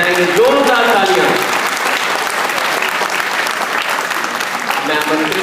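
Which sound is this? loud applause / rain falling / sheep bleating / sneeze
loud applause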